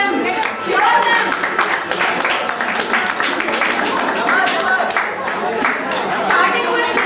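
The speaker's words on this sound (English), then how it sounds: "Round of applause for them. Cheer them." Audience applause and cheering at an Independence Day celebration, with steady clapping and crowd noise filling the whole span at close range, and voices mixed into the din.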